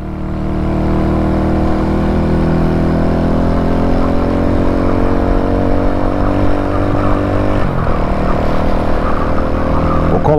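A Shineray Worker 125 motorcycle idles close by with its original exhaust, a steady, loud low rumble that holds evenly, with a brief dip near the end before settling back.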